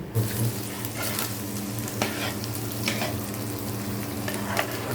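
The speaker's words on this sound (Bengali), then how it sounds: "আমার আম্মা এভাবে এই যে চালটা এরকম চালটা ভেজে নিতেছে" Rice fried dry in a pan for village-style khichuri, with a steady sizzle and repeated scraping stirs of a spoon through the grains, close and continuous with no talk.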